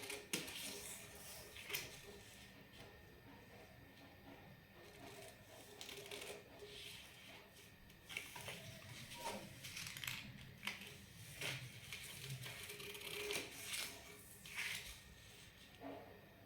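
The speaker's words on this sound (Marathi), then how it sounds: "आता आपण याला कापून घेऊया." Scissors cut through fabric for a blouse sleeve, giving a string of quiet snips and crisp rustles spread over the stretch. Soft handling noise runs throughout.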